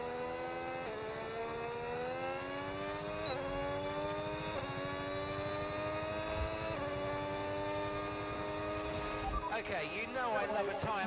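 A Formula 1 car engine in a racing video game at Monaco, a sustained high-pitched whine that climbs and drops with gear changes, steady and close, with brief rev shifts near the end.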